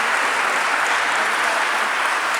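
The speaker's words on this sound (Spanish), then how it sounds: "vamos a darle un aplauso al Señor" An audience at a religious gathering applauds in a steady, even wash of many hands clapping, moderately loud and continuous with no voices standing out.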